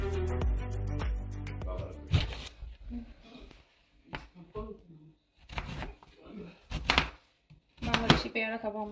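A knife chops vegetables finely on a board in quick bursts of sharp taps, separated by pauses, with someone talking throughout.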